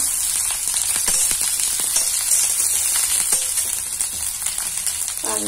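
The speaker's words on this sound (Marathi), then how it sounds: "त्याच्यात मग टाकायचं आल्याचे तुकडे, मग टाकायचा कांदा" Ginger pieces and onion sizzle in a pan over a high flame, a loud steady frying hiss with faint stirring taps throughout.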